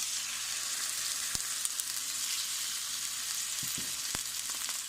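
Salmon fillets laid in hot oil for jerk salmon, frying with a steady, close hiss and a few faint clicks, with no talking.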